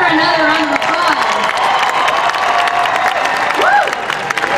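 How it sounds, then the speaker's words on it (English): Crowd applauding and cheering at an outdoor Texas Rally for Life, loud and steady clapping with scattered whoops and shouts throughout. "Let's give her another round of applause."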